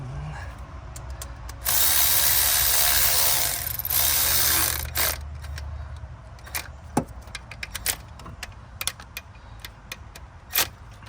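An impact gun works on bolts on a Chevy Silverado engine: a loud sustained whir for about three seconds, followed by scattered metallic clicks and clinks of tools and parts. No voices.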